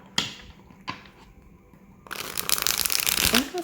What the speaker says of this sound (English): So let me keep pulling cards and see.